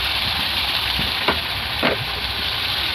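Mustard and poppy seed paste with Kashmiri chili powder and salt sautéing in a pan, a steady close sizzle and fry throughout with a couple of brief stirring scrapes.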